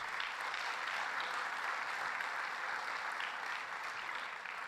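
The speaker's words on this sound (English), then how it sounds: "So let's give her a round of applause" Steady, even applause from an audience at a governor's announcement event, a uniform wash of clapping lasting the whole stretch at moderate distance with no break.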